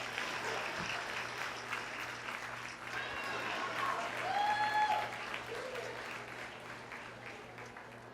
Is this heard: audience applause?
yes